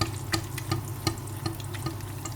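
Ground pork fries in oil, sizzling and crackling steadily in a pan, with scattered sharp pops and spatters over a low rumbling hum.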